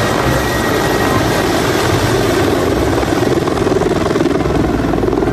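A steady, loud whirring drone of a toy army helicopter's rotor runs without a break, with no voices over it.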